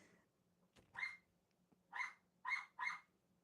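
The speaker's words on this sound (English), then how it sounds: "we've got the ambient noise of Neo barking." A dog barks several times indoors: a single bark, a pause, then a quick run of three barks, clear and moderately loud against a quiet room.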